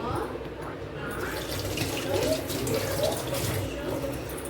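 Water running from a kitchen tap while eggs are rinsed during chow mein cooking, a steady close gush with splashing, mixed with a voice speaking.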